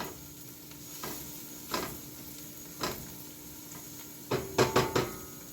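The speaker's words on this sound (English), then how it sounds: "I'm going to let this saute for another minute or so" Octopus stew aromatics with a bay leaf sautéing in a pan, a faint low sizzle broken by a few spoon scrapes and a quick cluster of taps on the pan near the end, no voices.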